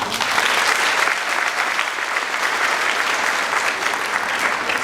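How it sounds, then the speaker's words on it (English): An audience at a girls' school career fair applauds for a speaker, with steady, dense clapping that stays loud and even throughout, with no voices over it. "Clap for her one more time."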